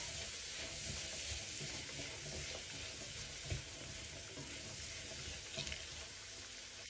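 Chicken fried rice ingredients with salt and a vegetable soup cube being mixed in a hot pan, a steady close sizzle and hiss with faint stirring scrapes underneath, even throughout and unaccompanied by voices.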